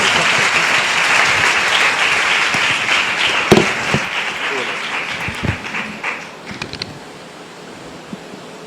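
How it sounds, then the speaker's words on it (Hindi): A church congregation applauds to welcome a pastor, the clapping dense and loud at first, then thinning into scattered individual claps as it fades away. "आइए जोरदार तालियों में"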